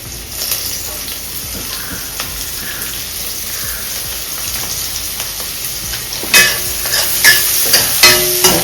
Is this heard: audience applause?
no